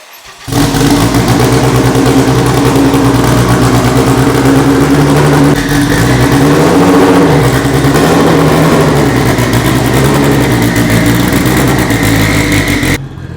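A 1000 whp all-wheel-drive Honda Civic Si engine, running loud and close as a steady, heavy drone with a rough, rumbling low tone that rises and falls slightly midway before cutting off.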